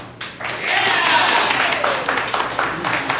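A nightclub lounge audience claps briefly in answer to a host's question, a short scattered round of applause rising and fading within a few seconds, with a faint voice beneath.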